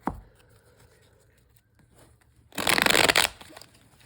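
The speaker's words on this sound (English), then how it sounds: "I'm going to go ahead and shuffle here" A deck of cards gets one quick riffle shuffle, a dense burst of crisp papery flutter lasting under a second, close and clear after a short tap and near quiet.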